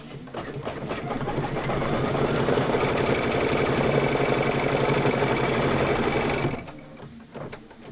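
A sewing machine stitches a quilted pillow top in a steady, rapid mechanical rhythm, running close and continuous for about six and a half seconds before stopping abruptly.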